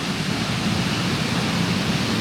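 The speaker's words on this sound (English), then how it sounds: "this is the first waterfall we come to" Roaring waterfall at Little Egypt in Tennessee, a loud, dense and unbroken wash of falling water heard up close and alone.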